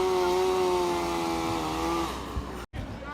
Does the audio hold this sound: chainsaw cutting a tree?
yes